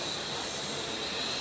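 Steady loud hiss and rumble of a Mumbai local train at Kurla station, an unbroken wash of noise over the whole stretch with no distinct events.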